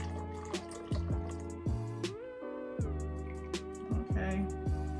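Homemade fruity room spray drips and trickles into a small bottle through a funnel, a series of soft, close liquid drops and splashes.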